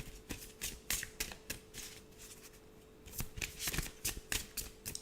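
Tarot cards shuffled by hand in a run of crisp riffles and soft slaps, close and fairly quiet, with a brief lull midway before more quick shuffling, no one talking.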